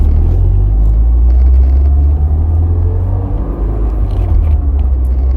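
A project car with a new coolant reservoir rumbles along neighborhood streets on a test drive, its engine a loud, constant low drone close by that eases slightly partway through, with no voices.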